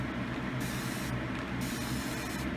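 Continuous-mist H2O water spray bottle spraying onto hair, a soft steady hiss close by with slight pulses, quiet and without talk.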